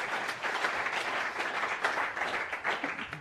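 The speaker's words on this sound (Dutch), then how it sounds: "Nog één keer een applaus." An audience at an educational conference on AI in higher education applauds a speaker, giving a fairly soft, dense wash of clapping that holds steady for a few seconds.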